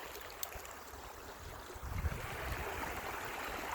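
Forest creek running along the edge of a property, a soft continuous rush of flowing water that grows slightly fuller partway through, heard close by with no talking.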